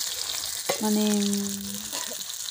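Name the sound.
potatoes frying in a pan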